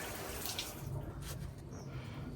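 Steady water rushing from a garden hose with weak pressure, a continuous broadband hiss running close and unbroken, with no talking.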